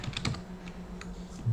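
Keys on a computer keyboard tap softly in a short burst of a few presses, close and quiet over a low room hum.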